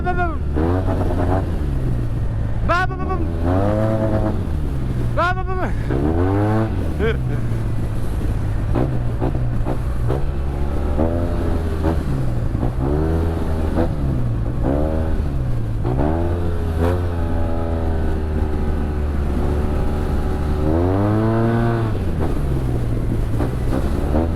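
A Yamaha TMAX 560 maxi-scooter engine revs repeatedly in a city street, rising and falling in loud close surges with a steady idle beneath, while someone talks over it throughout.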